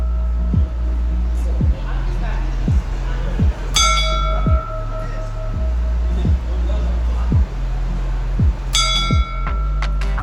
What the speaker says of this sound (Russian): каждый час выходит ангел и бьет в колокол